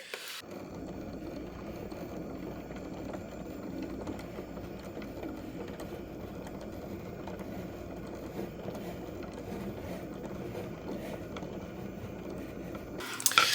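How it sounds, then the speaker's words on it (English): A craft vinyl cutting machine runs steadily while cutting a design in gradient vinyl on a mat, a continuous low mechanical whir and rattle that holds even for about thirteen seconds and stops with a few louder clicks at the end. "y'all can hear the machine running because it's currently cutting the design"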